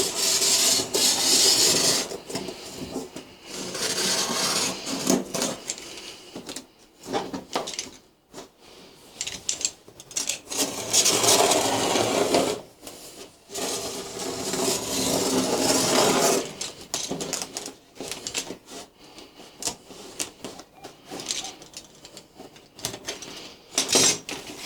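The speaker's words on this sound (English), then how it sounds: "getting a sharp blade, keeping pressure on your metal rule and just running it down." A sharp blade draws along a metal rule, cutting cork sheet into strips in repeated rasping strokes that are close and moderately loud, separated by brief quiet pauses.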